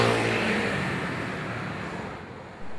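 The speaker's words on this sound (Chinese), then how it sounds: "仔细听机车的引擎声" Motor vehicle engine, likely a motorcycle, roaring close and loud at the start, then fading steadily as it moves away, its pitch sliding downward in a Doppler pass.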